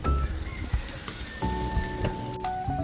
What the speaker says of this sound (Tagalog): Medyo kusog-kusog na idang ambon